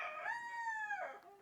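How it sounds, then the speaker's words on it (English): A rooster crows once, a single long, clear cock-a-doodle-doo heard fairly close that rises, holds, then trails off in a falling tail. "Roosters"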